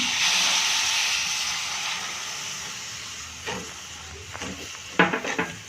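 Milk poured into barnyard millet (moraiya) sheera cooking in a pan, giving a loud, steady steamy hiss that slowly fades, with a few soft stirring clinks near the end.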